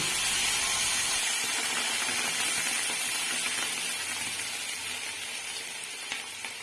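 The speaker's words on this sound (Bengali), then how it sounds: "এখন আমি জল দিয়ে দিচ্ছি।" Water poured into a sizzling pan of masoor lentil and vegetable curry sets off a loud rushing hiss of steam that slowly settles and fades over several seconds.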